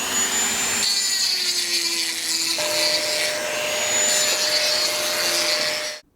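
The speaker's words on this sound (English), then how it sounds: "I'm going to have to grind out some of this hole in order for it to fit." A power grinder works a hole in a metal vault bar with a loud, steady whine and rasping hum that holds for about six seconds, dips slightly in pitch partway, then cuts off abruptly.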